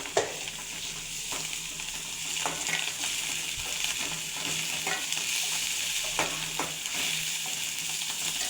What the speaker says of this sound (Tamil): போட்டு நல்லா வதக்குங்க.